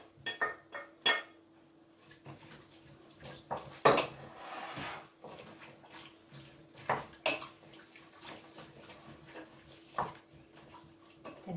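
Browned beef for an Irish beef stew being tipped back into a cooking pot, heard as a series of scattered metallic clinks, knocks and scrapes of utensils against the pot, with a louder clatter near the start and quieter rattles after.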